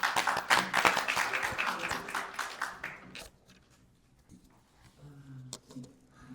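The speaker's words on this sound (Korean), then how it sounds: "박수 한번 부탁드립니다" Seminar audience at a party-reform debate in a National Assembly members' hall room applauding a presenter, dense clapping for about three seconds that fades quickly into a quiet room with faint shuffling.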